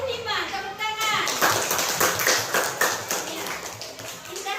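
Schoolchildren in a classroom clap together for a group, a dense burst of rhythmic hand claps filling the whole stretch with young voices mixed in.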